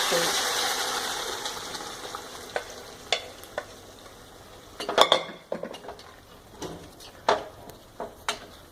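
Dal tempering frying in a pan, a low sizzle under repeated clinks and scrapes of a spoon stirring against the metal, with a voice speaking over it.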